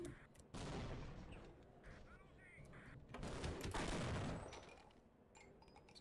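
Distant gunfire from HECU soldiers in Half-Life rings out as bursts of shots and rattling fire, with a heavier salvo midway, all fairly faint and set against a muffled game soundscape.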